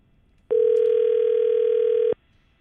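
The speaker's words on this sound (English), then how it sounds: "All right, calling Wacky Jackie on her cell phone." A single steady telephone tone on a cell phone call, loud and continuous for about a second and a half before stopping abruptly, heard alone.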